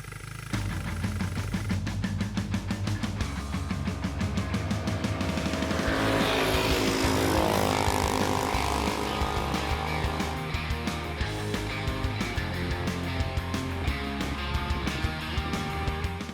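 Cheap ATV quads fitted with tracks riding through snow, engines droning and revving loudly and continuously up close, the pitch rising and falling as they accelerate, with no talk.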